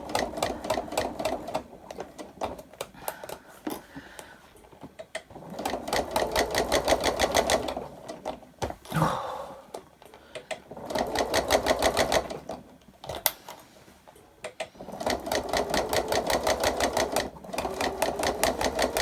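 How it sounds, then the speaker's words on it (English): Sewing machine top stitching the outside fabric of a laptop bag, running in steady rapid bursts of stitching separated by short pauses, close and fairly loud with no talking. "So I'm just top stitching on the outside fabric."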